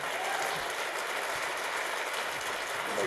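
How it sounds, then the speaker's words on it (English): A conference audience gives a sustained round of applause after a session, a full even wash of clapping from many hands in a large room, moderately distant. "Can we give these great folks a round of applause here?"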